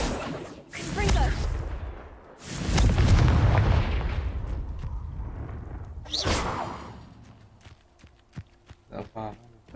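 In Hogwarts Legacy, Confringo fire spells go off as booming explosions with a whooshing rush. Several loud blasts come at uneven intervals, and some quieter crackles follow as the sound fades.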